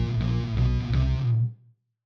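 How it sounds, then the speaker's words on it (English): A distorted electric guitar phrase is layered with a sine-wave sub bass in a recreated Radio 2 jingle, the buzzy chords backed by a deep low-end hum that lingers briefly after the guitar stops. "And when you pair it up with the sub bass, it's more like this."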